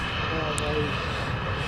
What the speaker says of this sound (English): the Ryanair is taking off first